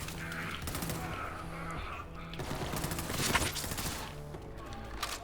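Rapid SMG fire rattles in sustained bursts in Borderlands 3, mixed with impact and crash effects over a pulsing game music bed, with no talk.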